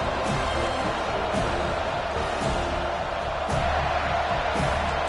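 A football stadium crowd roars and cheers in a continuous, dense wash of voices, steady and loud throughout with a few sharper bursts.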